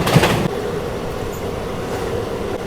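Lucknow Varanasi Shuttle SF Express rolling along the rails in light rain, a loud continuous rumble of wheels and carriage noise heard from onboard, with a brief clatter at the start and no voices.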